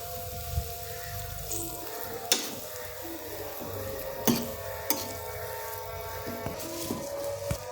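Potato samosa filling with green coriander and kasuri methi is stirred in a pan, a continuous low sizzle and hum under irregular sharp clinks and scrapes of a spoon against the pan, with no talk.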